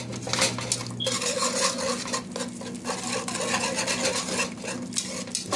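Stock stirred a little at a time into pork chop gravy in a pan, a utensil scraping and clinking against the metal in a steady, close rhythm with a wet rubbing texture throughout.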